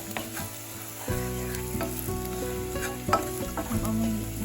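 Hot curry powder frying in a pan over lowered heat makes a continuous sizzle, broken by several scraping stir strokes and a few light utensil knocks against the pan.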